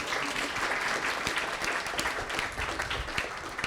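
A round of applause from an event audience, steady dense clapping sustained throughout at moderate loudness.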